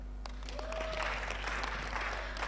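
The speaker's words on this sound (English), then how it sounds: "Let's clap hands for her." An audience at an agroecology exchange and expo applauds someone speaker, a short, fairly quiet patter of clapping heard from a distance in a large room.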